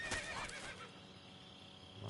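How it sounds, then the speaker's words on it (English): A horse in the woods of the video game Metal Gear Solid 3 gives a short, clear whinny at the start, fading into quiet ambient background. "Why the hell is there a horse out in the middle of the woods?"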